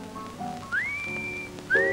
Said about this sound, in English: you know how to whistle, don't you, Steve? You just put your lips together and blow.